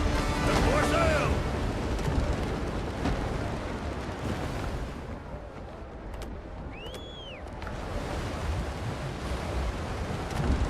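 In the Windrose video game, a sailing ship founders among rough waves, with a dense roar of surf and wind that dips and swells, plus a brief rising-falling tonal effect, under a talking voice.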